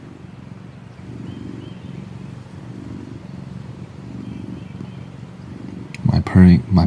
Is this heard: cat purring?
yes